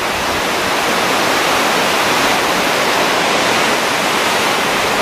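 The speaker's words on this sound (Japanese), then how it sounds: "はい、雨乞いの滝でした。" Amagoi waterfall roaring in a steady, loud, broadband rush of falling water, continuous and close throughout with no voices.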